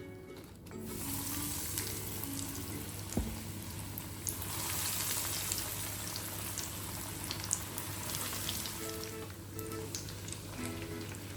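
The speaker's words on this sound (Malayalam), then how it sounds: "ഇനി നമുക്ക് ബ്രെഡ് ക്രംസിൽ കോട്ട് ചെയ്തെടുത്തത് ഫ്രൈ ചെയ്യാം." Chicken spring rolls coated in breadcrumbs fry in hot oil, giving a steady, close sizzle with faint bubbling and a few soft clicks throughout, with no talking.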